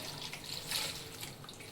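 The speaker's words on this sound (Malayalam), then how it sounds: "ഇതിലോട്ട് നന്നായി ഇച്ചിരി വെള്ളം ഒഴിച്ച്" Water is poured steadily into a cooking pot holding tomato, turmeric and salt for a Kerala-style razor moonfish curry. The stream makes a quiet, continuous splashing with no talk over it.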